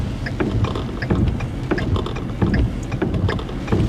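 Strong, gusty wind batters the microphone during a tornado chase in Minnesota, producing a continuous loud rumbling buffet with repeated sharp gust thumps.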